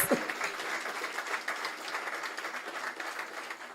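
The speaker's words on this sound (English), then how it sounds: "Give them a round of applause" Faint, distant applause from an audience at a Special Olympics torch run opening ceremony, a soft continuous patter of clapping at low level.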